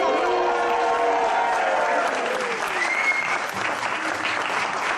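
An audience applauds continuously as a performer arrives on stage at a preview screening, a thick, even wash of clapping under faint cheering and murmured voices, with a few tonal sounds drifting through.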